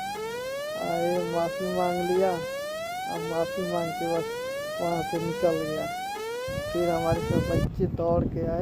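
A vehicle siren wails repeatedly in rising sweeps, loud and close, sounded to scare off a bike thief in a village; someone talks over it, and wind buffets the microphone near the end.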